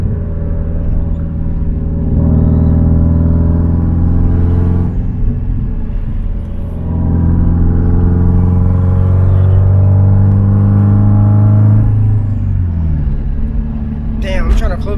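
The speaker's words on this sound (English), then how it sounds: "You could just hear that turbo spool." A Subaru WRX STI engine pulls through the gears while driving in Florida, a loud, close rumble rising and falling as it accelerates and shifts, with turbo spool under the engine note and someone talking over it.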